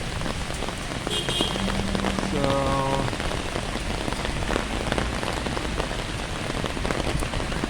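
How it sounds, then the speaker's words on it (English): Steady rain falls on a hard surface, a dense, continuous patter throughout, with a brief spoken word early on. "it's raining a bit heavier now"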